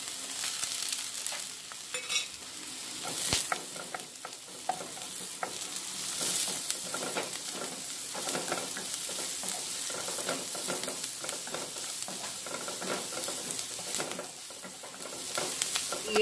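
Ginger and green chilli stir-frying in a pan for rava upma, a steady crackling sizzle with stirring scrapes running throughout, close and alone with no talking.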